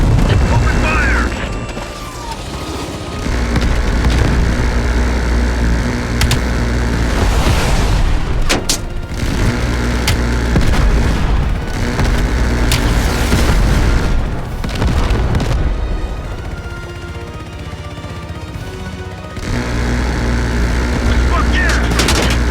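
Call of Duty Black Ops Cold War combat: sustained heavy gunfire and booming explosions, loud and continuous with brief lulls, under a soundtrack and shouted voices.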